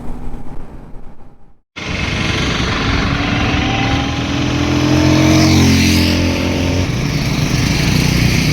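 A Royal Enfield 650cc motorcycle pulls hard in second gear, its engine rising from a steady drone into a loud, sustained rev that builds and holds close by.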